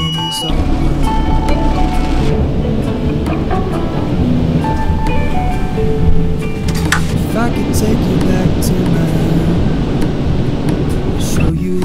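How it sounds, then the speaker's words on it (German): Stormy wind buffets a campervan parked at a Patagonian campsite along Route 40, a steady loud roar with gusts rumbling continuously for the whole stretch, no voices. "Es war so stürmisch, ist es auch immer noch."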